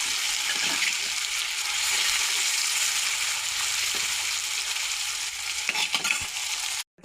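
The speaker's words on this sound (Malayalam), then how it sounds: "അപ്പോൾ ഇതിനകത്ത് ഇനി നമുക്ക് മത്തി ഇട്ട് കൊടുക്കാം" Sardines crackle and sizzle loudly in hot oil, a dense, continuous frying hiss with a few soft knocks near the end.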